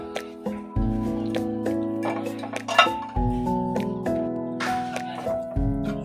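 Dry sugar, semolina and flour stirred together in a bowl, with a spoon clinking and scraping against the sides in irregular strokes over a steady tonal hum.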